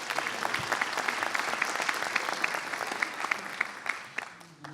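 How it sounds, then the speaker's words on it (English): Applause from a conference audience greeting a city mayor at an opening session: a full crowd clapping steadily, then thinning and fading toward the end. "Mayor Stodola, round of applause."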